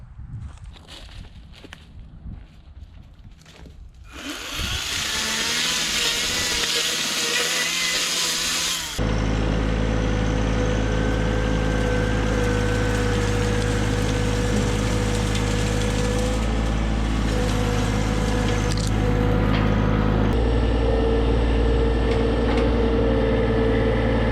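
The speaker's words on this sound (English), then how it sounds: "I need to go get the chainsaw and cut" A chainsaw cuts into a tree stump while brush is cleared for fence posts. After a few quieter seconds it roars in loud and close, then runs steadily for about twenty seconds.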